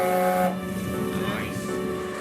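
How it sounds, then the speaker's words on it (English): A steam locomotive whistle sounds loud and sustained for a moment, then fades into a hissing, wavering tail. "Pull the whistle."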